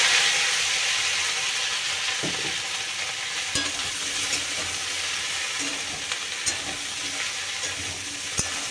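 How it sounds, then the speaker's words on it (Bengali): Okra (bhindi) fries in hot oil in a wok, a continuous close sizzle and hiss with occasional scraping stir strokes and light clinks. "তেল গরম হয়ে গেছে গো, ভেন্ডিটা ভেজে ফেলি"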